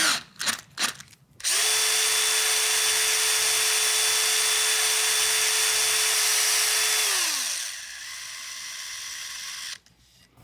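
Power drill bit boring a hole into a guitar headstock neck under repair, a loud steady whine running for several seconds after brief start bursts, then dropping off as the bit breaks through, leaving a quieter hum.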